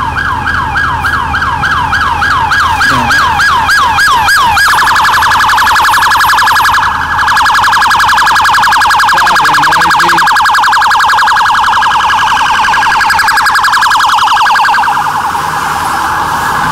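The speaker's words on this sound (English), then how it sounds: "Oh, maybe the police car will take me." Wailing emergency siren on a road, starting with a fast warbling yelp for about five seconds, then switching to a steady loud piercing tone that holds to the end, with traffic rumble beneath.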